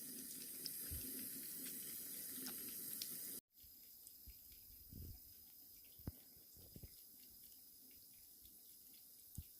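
A household water faucet runs steadily with a soft, continuous splashing hiss, faint and close, broken once by a brief cut before the flow continues.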